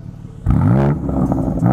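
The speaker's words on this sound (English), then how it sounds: "when Zach puts it in M mode, it's supposed to open the valves, but what we found is that it doesn't fully open the valve" BMW exhaust in M mode with its valves only partly open, a loud close engine rev that swells and holds with a throaty, rising drone.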